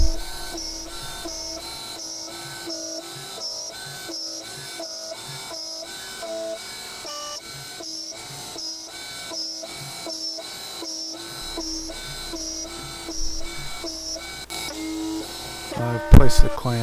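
Milling a pocket in a motor mount for an old BLDC motor: a steady, close mechanical whine with fast rhythmic pulsing from the cutter, carrying on throughout and ending with a brief sharp clatter.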